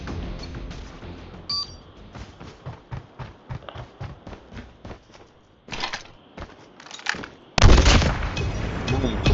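Sniper rifle gunshots in a sniper-only Call of Duty match, a series of sharp, loud cracks at irregular intervals, ending in a heavier, sustained burst of fire near the end.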